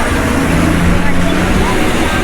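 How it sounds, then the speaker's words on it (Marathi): Car pulling away from Phaltan station, a dense, steady road and engine rumble with broad hiss filling the whole stretch, close and continuous without breaks. "इथून आमची गाडी स्टार्ट झालेली आहे"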